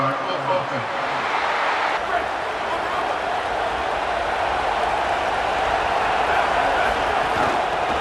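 Stadium crowd in the College Football 27 video game, a loud, steady roar of thousands of fans holding at full intensity throughout, with a broad wash of cheering and no distinct individual shouts.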